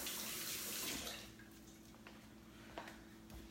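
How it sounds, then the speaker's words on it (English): Tap water runs over food being rinsed at a kitchen sink while spaghetti is prepared, a steady close rush that eases after the first second into a softer trickle with small splashes. "Let me wash these real quick."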